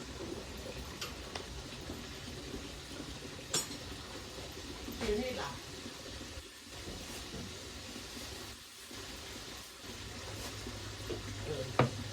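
Food being stirred and mixed in a pot brings scattered metallic clinks and scrapes of a utensil against the pot over a steady background hiss, with a few sharper knocks spread across the stretch.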